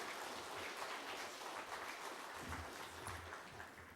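Church congregation applauding at a Korean praise service, a steady wash of many hands clapping at moderate level throughout, dense and continuous like rain with no distinct voices.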